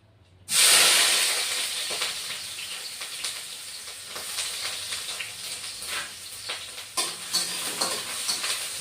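Chopped onion hitting hot oil in a wok, a sudden loud burst of sizzling that settles into a steady crackling fry with occasional stirring knocks, no talk.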